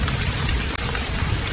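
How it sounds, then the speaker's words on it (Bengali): Heavy, continuous rain pours down steadily in a dense, loud wash of drops with no letup, unbroken by any voice. "আজ এতদিন যাবৎ টানা বৃষ্টি হচ্ছে"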